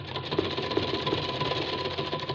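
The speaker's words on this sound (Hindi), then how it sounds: "सिलाई लगाएंगे और दोबारा से इलास्टिक के ऊपर 2-4 स्टिच गुजार लेंगे" A sewing machine runs steadily, stitching elastic onto fabric with a continuous close-up mechanical whir and rapid needle rhythm, heard alone without talk.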